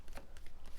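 Tarot cards shuffled by hand during a reading, a brief quiet riffle of soft papery slaps and rustles close to the microphone, with no talking.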